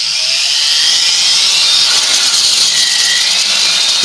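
A Dremel Fortiflex 9100 flexible-shaft rotary tool, foot-pedal controlled, runs at full speed around 20,000 RPM, a loud, steady, high-pitched whine that holds constant throughout.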